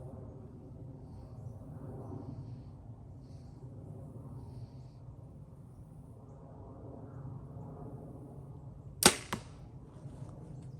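A Gold Tip X Cutter arrow is loosed from a Prime Nexus 6 compound bow: one sharp crack near the end, followed by a quick second knock. Before it there is quiet outdoor rumble.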